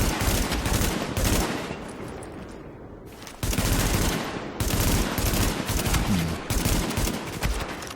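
Rapid gunfire crackles through a gunfight in Tom Clancy's The Division, loud, dense bursts of shots and automatic fire with brief lulls between volleys.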